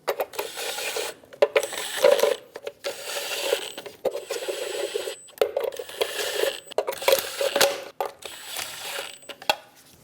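Nuts being snugged down on the front sway bar link of a Chevrolet Express 2500 van, heard as repeated bursts of clicking ratchet and metallic tool noise, close and fairly loud, with brief pauses between runs.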